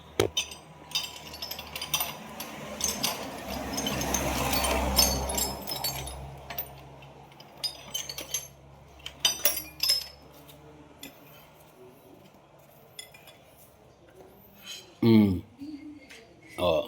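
A wrench ratchets and clicks against metal while tightening an oil cooler hose fitting on a Yamaha Mio Sporty motorcycle, with a spell of steady rushing noise early and sharper clinks later, close by.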